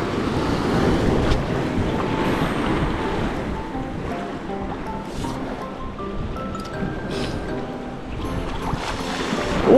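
A headwind blows across a surf beach in northern Japan during a flounder fishing session, a continuous rushing buffet mixed with rolling surf, fairly loud and unbroken throughout.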